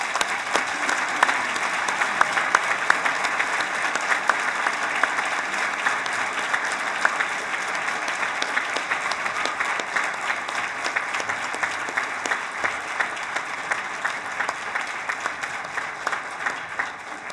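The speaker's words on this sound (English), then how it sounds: "please join us in a round of applause for our graduates," Sustained applause from a large crowd at a graduation ceremony honoring graduates, honorees and their families, steady dense clapping that runs loud and unbroken throughout without any talk.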